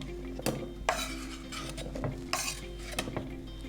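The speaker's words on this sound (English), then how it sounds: "So we're just going to put that into our food processor now" A utensil scrapes and clinks against a bowl and food processor as smoothie fruit is pushed in, giving irregular metallic knocks and scraping strokes over a low steady hum.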